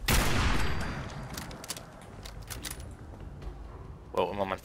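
Gunfire in the video game Fallout 4 opens with a loud burst of rapid shots that fades into scattered clicks and impacts, then someone speaks briefly at the end.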